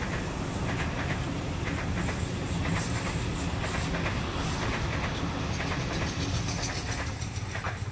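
A Sydney train pulls away from the platform at Croydon station, a continuous rumble with rhythmic wheel clatter and rail noise close by, steady for the whole stretch with no talking.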